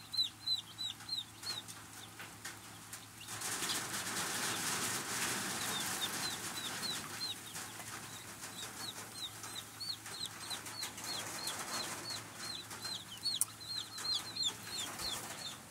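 Many mail-order baby chicks of a dual-purpose breed peep in a dense, continuous chorus of high, rapid chirps from start to finish, with a burst of broadband rustling noise partway through and no talking.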